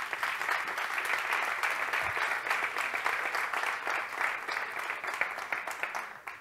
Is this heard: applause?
yes